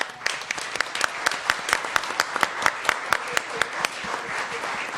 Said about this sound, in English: Some round of applause